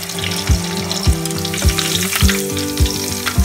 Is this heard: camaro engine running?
no